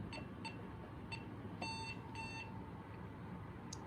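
A Safe House alarm panel in exit delay gives faint, evenly spaced electronic beeps, single chirps and short doubled bursts, over a low background hum.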